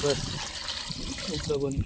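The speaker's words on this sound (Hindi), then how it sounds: "तो ये हमारी चाची टाकी में डाल रहे पानी" Water pours steadily into a household water tank, a close, constant splashing gush while a person talks briefly over it.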